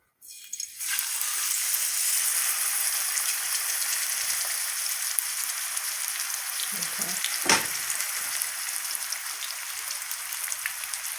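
Steady, loud sizzling of chicken breast frying in hot oil on a stovetop, a dense crackle that continues throughout with a few small clatters.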